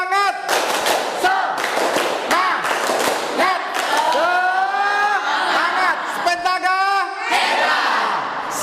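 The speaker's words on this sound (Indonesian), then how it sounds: "2, 3. Tepuk semangat." Students clapping in unison in a classroom, a tepuk semangat spirit clap with sharp rhythmic hand-claps and shouted chanting voices, loud and close throughout.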